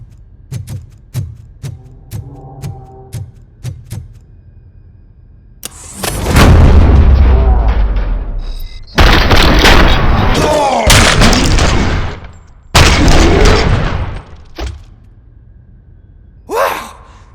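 Gunfire in the RoboCop: Rogue City game: a run of sharp single shots, then long, heavy bursts of loud automatic fire and booming blasts separated by short pauses, with a final shot at the end.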